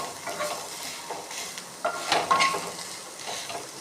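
Cabbage omelette frying in a pan on a stove turned to low heat, with a soft, steady sizzle close by and a few light scraping and clinking touches from a utensil.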